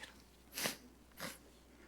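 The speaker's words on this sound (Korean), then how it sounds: "재채기가 나와가지고" Two short, breathy bursts a little over half a second apart stand out from a quiet room, each a sharp airy sneeze from one person during an afternoon church service, moderately close and fairly faint.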